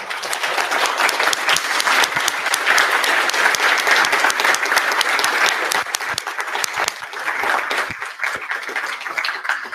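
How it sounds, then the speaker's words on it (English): Sustained audience applause fills a game design talk about ADHD, dense clapping holding steady at a loud level throughout with only slight dips, no voices on top. "I just want to applaud that"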